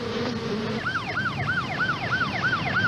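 An ambulance siren wails in a steady repeating up-and-down sweep, rising and falling about twice a second at a moderate distance, with a faint buzz in the background at the start.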